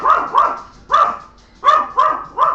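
A dog barks loudly indoors in a rapid series of about six sharp, close barks, some grouped in quick pairs, with brief gaps between bursts.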